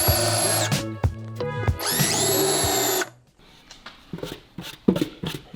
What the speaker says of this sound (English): So now we're gonna drill our holes.